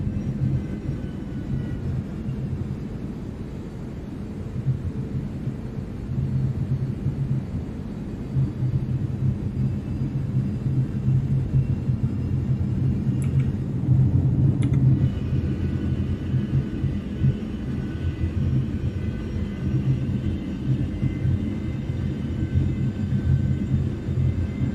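Airbus A320neo engines in the X-Plane 12 flight simulator with the KOSP soundpack, a loud continuous low roar and rumble that holds steady throughout, with a brief high whine midway.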